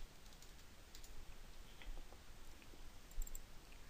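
Computer keyboard keys tap in quick, light clicks alongside occasional mouse clicks, faint and close, with no talking over them.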